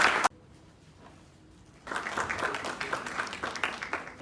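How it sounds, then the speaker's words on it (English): Audience applause at a gathering aboard a luxury train in India, with dense clapping swelling up after a brief lull and continuing steadily, moderately loud. "Please give a round of applause to welcome the second."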